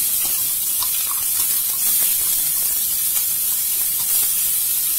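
Chopped ginger, onion and garlic tipped into hot oil already seasoned with mustard seeds and curry leaves, giving a steady, loud, bright hiss and sizzle that holds evenly throughout with no voices.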